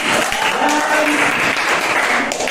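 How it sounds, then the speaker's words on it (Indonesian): Applause from an audience at a school classroom teaching session: dense, loud clapping close by, sustained for about two and a half seconds, with faint voices mixed in. "bagus sekali memberikan tepuk tangan dulu saja"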